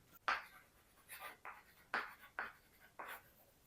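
Chalk or marker strokes on a classroom board during a maths lesson on rational numbers, a series of six or seven short scratchy strokes in an uneven rhythm, close and clear, with no talking.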